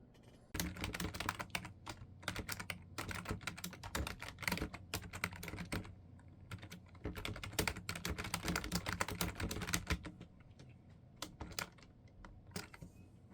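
Rapid, steady typing on a computer keyboard during a timed writing sprint, close and continuous with dense key clatter and brief pauses, no talking.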